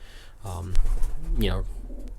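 A racing pigeon gives a short, low throaty coo close by, with rustling and a breathy background hum.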